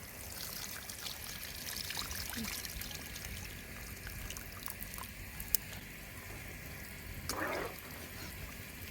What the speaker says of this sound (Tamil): இப்போது புளி கரைச்சி வச்சதை ஊற்றிக்கலாம்.